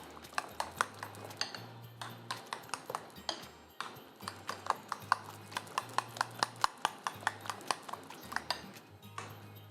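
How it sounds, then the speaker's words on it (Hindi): Eggs for an omelette are whisked in a bowl, producing a steady series of quick metallic clinks and taps of utensil against the bowl, fairly faint and unaccompanied by talk. "ये मिक्स कर लिया और ये हमारा अंडा हो गया फाइनली मिक्स।"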